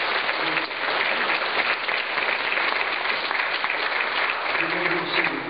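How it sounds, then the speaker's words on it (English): A church congregation claps together in steady, even applause that continues throughout, close and fairly loud, with no pauses. "Let's give them a hand for coming."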